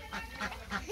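Farmyard ducks let out of their coop give three quick, faint honking quacks in a row, very short and fairly distant.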